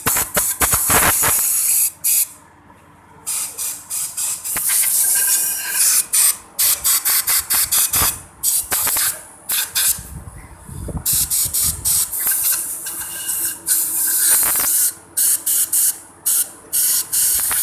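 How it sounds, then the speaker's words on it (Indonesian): Compressed air is blasted into the oil holes of a crankshaft and connecting rod to clean them, giving loud, close hissing sprays in repeated bursts of varying length separated by brief pauses. "semprot dulu pakai angin biasa"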